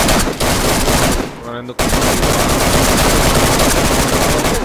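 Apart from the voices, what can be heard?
gunfire in a video game shooter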